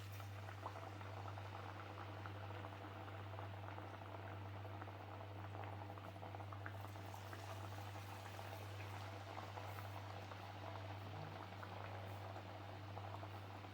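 Pumpkin pooris (gharya) dropped into hot oil in a large kadhai, giving a continuous soft bubbling sizzle with faint crackles and a low steady hum underneath, quiet and unbroken throughout.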